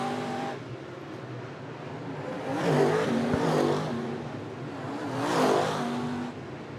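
Crate late model race cars roar around the Potomac Speedway oval during a qualifier heat, engines surging loudly as the pack passes close twice, with steady engine drone between passes.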